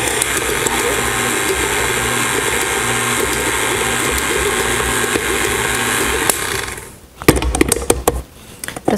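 Food processor blending flour and butter for pie crust, a loud, steady motor whir with grinding rattle that cuts off near the end, followed by a few clattering knocks.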